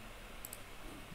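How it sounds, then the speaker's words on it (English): Two quick, faint computer mouse clicks sit close together over a steady hum of quiet room noise during a SketchUp editing session. "right click, deselect the panel."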